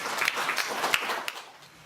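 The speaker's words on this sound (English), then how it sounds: "So let's give him a round of applause." A brief, fairly faint round of audience applause at a 2014 symposium as a speaker is welcomed to the podium, scattered clapping that thins out toward the end.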